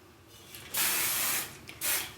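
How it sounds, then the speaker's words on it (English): Hairspray aerosol spritzed onto an updo hairstyle: two close hissing bursts, one long spray of about a second followed after a short pause by a second briefer one, with no talking. "finish with a little bit of hairspray"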